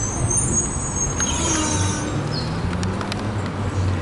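Old Melbourne trams, a B-class and Yarra Trams cars, rolling past on the street with a steady low rumble and faint wheel squeal, mid-distance under constant traffic noise.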